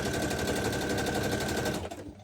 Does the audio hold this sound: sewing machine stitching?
yes